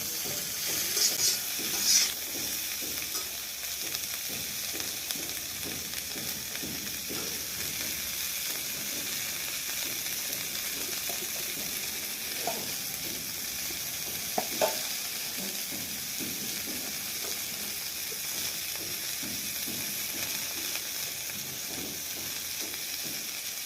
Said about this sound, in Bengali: এইভাবে আলু ফুলকপি একসঙ্গে ভেজে ঢেলে রেখে দিলে